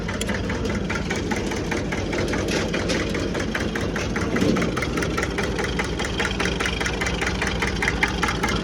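A Hinomoto E23 small tractor's engine runs steadily near at hand, a continuous rattling, knocking diesel idle with an even rhythmic chug throughout and no talk over it.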